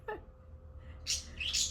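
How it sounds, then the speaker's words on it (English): Birds squawking and chirping in a busy household, with a brief high call at the start and then a louder burst of shrill, overlapping squawks in the second half, fairly close. "The birds started their squawking fest."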